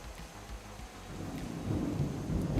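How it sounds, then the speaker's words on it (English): Low thunder rumbles and swells beneath steady heavy rain during a storm, building toward the end of the clip, with no voices. "Did you guys hear that thunder? It's really coming down."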